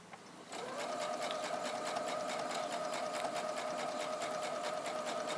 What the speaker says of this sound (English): So right now I'm sewing the sleeve straight, straight, straight.